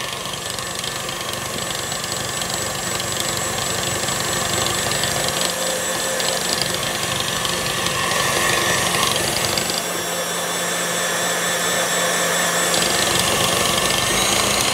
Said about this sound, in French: j'accélère le batteur au maximum